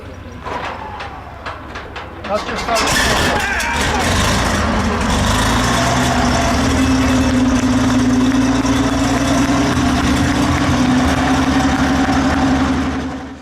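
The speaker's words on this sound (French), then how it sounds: "d'un gros moteur V12 Maybach" Big Maybach V12 of a WWII Tiger H1 tank starts with a few sharp knocks, then settles into a loud, deep, steady idle with a rough rumble and a droning hum that holds for over ten seconds.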